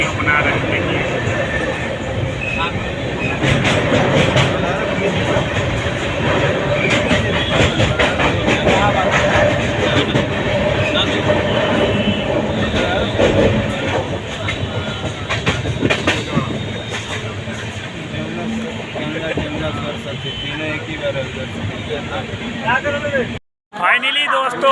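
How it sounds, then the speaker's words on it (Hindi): Interior of the Magadh Express passenger train running through northern India, a continuous loud rumble of wheels on rails with rattling carriages and rhythmic clatter, and people talking over it. "और ट्रेन से ही हम वीडियो बना रहे थे।"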